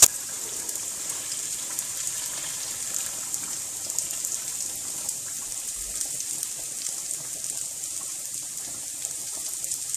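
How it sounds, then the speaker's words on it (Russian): A steady stream of boiling water pours continuously into a pot of frying duck and carrots for plov, a soft hissing rush with no voices. "Теперь заливаю кипяток и добавляю специи"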